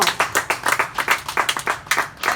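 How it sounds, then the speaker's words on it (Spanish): Close, rhythmic hand clapping from a church congregation, a quick steady beat of sharp claps, loud and without voices. "Denle un fuerte aplauso al Señor."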